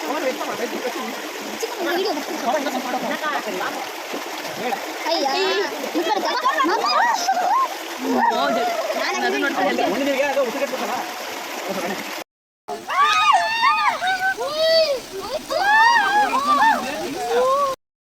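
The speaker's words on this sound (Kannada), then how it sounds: "ನೀರು ಫೋರ್ಸಿಗೆ ಅದ್ಮೇಲೆ ಬರ್ತಿರೋದು." Forceful water rushing and splashing near a bridge, a continuous loud wash beneath several people, including children, talking and calling out throughout.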